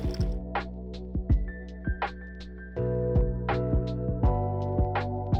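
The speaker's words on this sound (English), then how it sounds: "place the cup under the steam wand and open the steam valve to add hot water" Hot water flows from the steam wand of a Gaggia Espresso Evolution machine into a cup, a steady low hum and trickle punctuated by a series of close, distinct drips and splashes.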